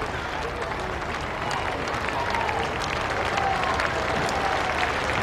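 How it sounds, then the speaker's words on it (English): Scattered crowd applause around the ground at a sparsely attended Test cricket match at Old Trafford in 1998, a steady distant patter with a commentator's voice over it. "Applause around the ground."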